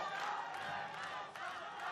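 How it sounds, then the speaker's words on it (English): Crowd, fans and team cheer at a JuniorGP motorcycle racing podium ceremony in Valencia as trophies are handed out, a steady, fairly distant roar of voices with no single clear shout. "Crowd and the fans and the team all supporting Almanza then as the trophies are handed out"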